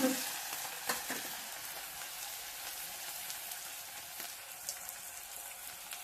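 Onion tossed into hot oil for a village-style mutton dish cooked on a wood-fired stove, a quiet, even crackling sizzle with a few stirring scrapes near the start; no talking.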